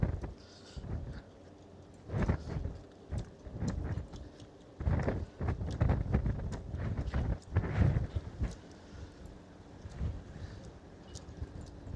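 Gusty evening wind buffets the microphone in uneven bursts in Ponta Delgada, São Miguel, Azores, rumbling low and steady, with no one speaking.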